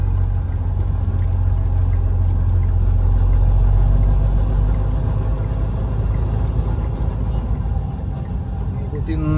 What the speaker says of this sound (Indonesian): Itu loh truk muatan berat,